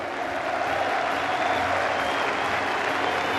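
A Highbury stadium crowd applauding Arsenal players, with dense sustained clapping from a large crowd filling the whole stretch at steady loudness.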